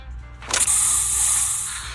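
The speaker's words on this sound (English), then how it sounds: "Here, have a taste of this special Bangbu spray." Spray sound effect from the Zenless Zone Zero video game, a special Bangbu spray: a sudden loud hissing burst that holds as a steady bright spray for over a second, with no talking.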